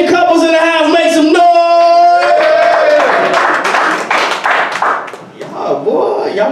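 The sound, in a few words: audience clapping at comedy show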